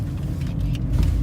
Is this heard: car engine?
yes